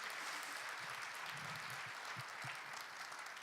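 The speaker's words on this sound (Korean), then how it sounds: "박수 좀 부탁드리겠습니다." Audience applause at a Korean university industry-academia exchange event, a steady wash of many hands clapping that fills the room, fairly even in loudness with a few low thumps mixed in.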